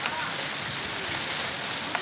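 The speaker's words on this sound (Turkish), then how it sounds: "Buz yağıyor resmen ya, gökyüzünden buz yağıyor." Hail pelts down from the sky in a dense, steady rattle of ice pellets striking surfaces, a continuous close hiss of small impacts throughout.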